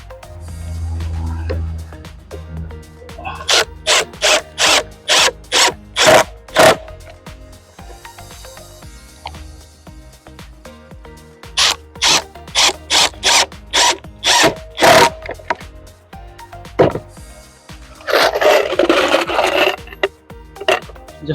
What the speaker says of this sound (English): One here for the screws, and one here. I have the drill bit here.